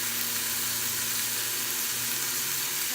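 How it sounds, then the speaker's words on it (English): Steady, faint crackling sizzle of bacon frying in a hot skillet, a continuous hiss with no talking. "My bacon pieces on the skillet, and it's sizzling nice and loudly."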